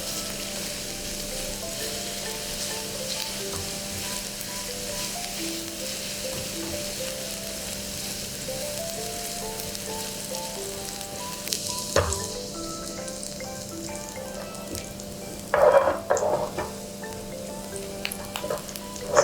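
Ginger fries and browns in a pan, with a steady soft crackling sizzle running throughout and a few louder bursts of spatter toward the end.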